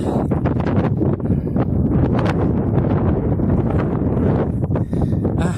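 Strong headwind roars steadily against the microphone while mountain biking uphill, a loud, constant low rumble with brief gust fluctuations and no voices.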